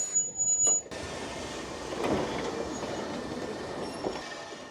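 A hand-painted, manually operated electric tram built in 1895 pulls away on its rails, a rolling rumble of wheels on track that swells and continues steadily after a brief quieter moment.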